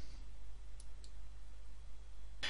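A single soft mouse click saves a file in Microsoft Word 2013, with a faint tick earlier and a sharper, brighter click near the end over low background hum.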